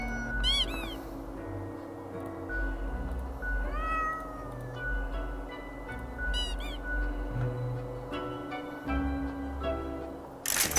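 A cat in the video game Death and Taxes meows several times, short rising-falling calls spread over a steady ambient game soundtrack.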